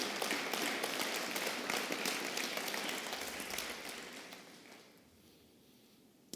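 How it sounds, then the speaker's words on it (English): Applause from a conference audience at the GTAC 2010 closing remarks, a dense patter of clapping that holds steady and then fades out toward the end. "Let's give him a round of applause."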